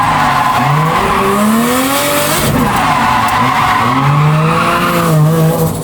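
A Toyota JZX90 drifts at Ebisu circuit, its engine roaring loud and close with rising and falling pitch while the tires squeal continuously throughout.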